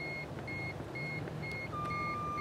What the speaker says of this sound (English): Wait for the alarm.